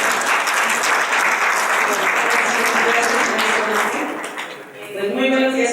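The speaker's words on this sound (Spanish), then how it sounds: "Un fuerte aplauso para la intervención de la licenciada." An audience at an education round-table gives a loud, dense round of applause to a speaker, sustained and close, dipping briefly before swelling again as a voice begins over it.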